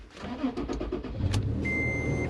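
A car engine cranks and catches after a newly programmed key fob is used, with a short mechanical whir followed by a steady idle and a thin electronic tone near the end.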